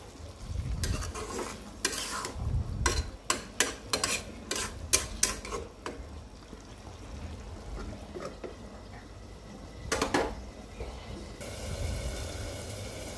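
Cauliflower being stirred in a pan, with repeated loud spoon-on-pan scrapes and clatters in bursts over a low sizzle, a pause in the middle, then another brief round of stirring near the end; no voices.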